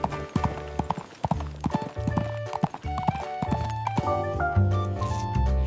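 Horse-drawn carriage hooves clip-clopping in a quick, even rhythm, close and distinct, with a wheel-like rattle and a brief whinny-like tone over a musical background.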